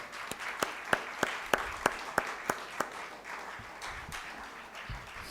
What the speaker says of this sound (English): Let's congratulate him with first a big round of applause